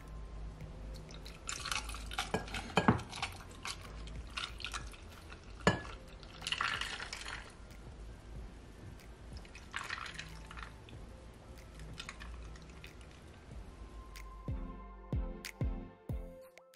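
Sorrel, pineapple and ginger drink trickles and drips into a glass with a few clinks, then a burst of ice rattling near the end.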